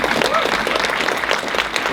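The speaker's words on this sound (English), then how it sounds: "please give a round of applause for that" An audience at a university diversity summit keynote applauds, a dense steady wash of clapping heard throughout the short stretch with murmuring voices mixed in.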